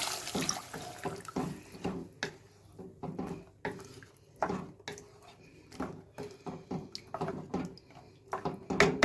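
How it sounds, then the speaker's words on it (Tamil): Water splashes and pours in irregular bursts, with a faint metallic clatter of a pot, close by and fairly quiet. "தண்ணி விட்டுக்கலாம்"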